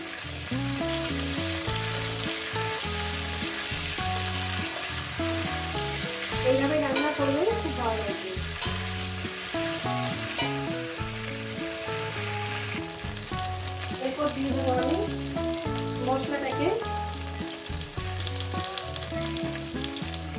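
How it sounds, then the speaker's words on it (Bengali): Okra and green chillies fry together in a pan with a continuous sizzle and occasional stirring, set against steady background music. "কাঁচা লঙ্কাগুলো ঢেঁড়সগুলো একসঙ্গে একটু ভেজে নেব ঢেঁড়সগুলো দিয়ে দিলাম দিয়ে আমি আরও চার মিনিট ভেজে নেব"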